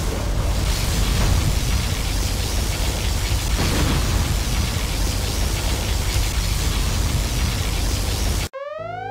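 A particle cannon blast roars in C&C Generals as a long, loud, dense wash of noise that holds steady for about eight seconds, then cuts off abruptly into a short rising electronic sweep.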